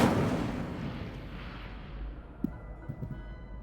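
A spell-cast fire burst in Hogwarts Legacy opens with a loud whooshing blast that fades into a rumbling tail and a couple of faint pops.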